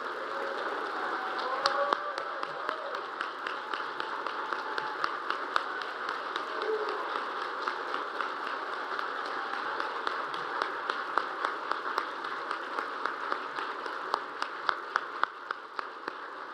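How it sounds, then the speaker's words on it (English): An audience at an evening honoring Gold Star families gives a sustained round of applause, a steady wash of clapping heard from a distance with some sharper individual claps standing out near the end. "Can we hear one more very loud round of applause so they can hear us on the other side of the water"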